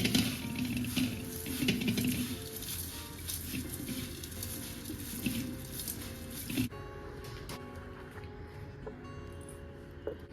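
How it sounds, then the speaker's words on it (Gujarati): Bhel ingredients with chaat masala and red chili powder being mixed by hand in a bowl, giving a steady soft patter and squishy rustling that runs throughout, close and moderately loud. "અને આ બધી વસ્તુને આપણે આ જ રીતે હાથથી બરાબર મિક્સ કરી લઈશું."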